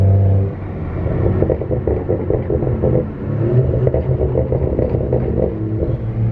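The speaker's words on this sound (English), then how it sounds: "if anyone's curious what OEM burbles sound like, this is what they kind of sound like." A BMW 335i with its factory exhaust gives low gurgling burbles and a rumbling drone while driving, with irregular crackly pops over a steady engine hum and no voices heard.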